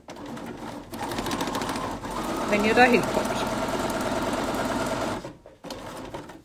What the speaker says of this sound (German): Wenn ihr noch nicht so wisst, ob eure Nähmaschine da drüber hüpft, dann näht einfach mal langsam.